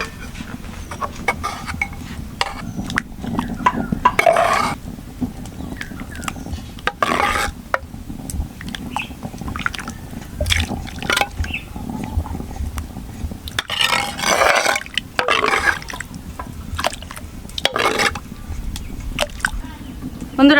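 Soaked lentils go into hot water in a pot for a raw mango sour dal, producing intermittent splashes, liquid churning and stirring noises at moderate loudness, with a few louder bursts spread across the stretch.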